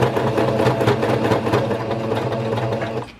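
A sewing machine stitches a strap seam on a onesie yoga or dance outfit, a loud, close, steady mechanical whir with rapid needle chatter running continuously before cutting off.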